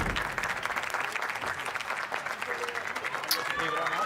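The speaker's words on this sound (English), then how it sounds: "Well-deserved round of applause." Sustained applause from a crowd at the WSOP 2025 Main Event poker tournament, dense and steady clapping throughout, with a brief cheer rising near the end.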